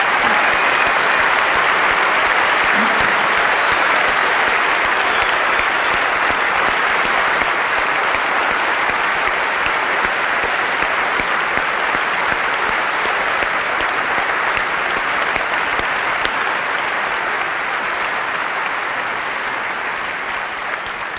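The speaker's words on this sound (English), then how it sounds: "let us give them a round of applause" An audience at Apple's 2004 Macworld San Francisco presentation applauds for a long stretch, a dense, loud, sustained wash of clapping that fades slightly toward the end.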